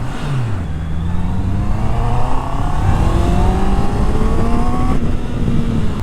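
A 2021 Honda CB650R inline-four motorcycle revs through rising gears on a test ride, the engine pitch climbing repeatedly and loud throughout, with traffic noise around it.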